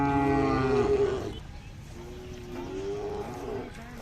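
Khillar cattle at a village livestock fair and market in Solapur district, with one loud, close drawn-out moo at the start, then lower lowing and murmuring from the crowd.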